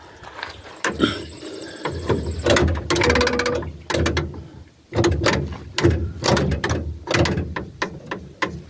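Hydraulic valve control handles on a 1586 tractor are worked by hand, giving a run of close metallic clunks, clicks and rattles in irregular bursts, with short pauses between moves.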